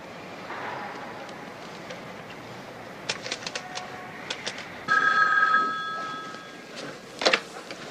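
A telephone rings with a few short electronic chirps and bursts over a quiet room tone, with brief louder rings near the end and no speech.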